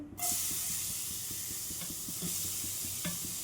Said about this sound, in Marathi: आता तेलामध्ये थोडं आपल्याला भाजून घ्यायचं आहे बीटरूट.